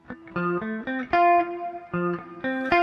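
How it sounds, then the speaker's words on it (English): A melodic run of sustained notes plays through an Old Blood Noise Endeavors Screen Violence reverb pedal, which blends short, medium and long reverbs. Each note swells and rings into the next, close and clean, with no speech. "you hear that the way the reverb is introduced is very different"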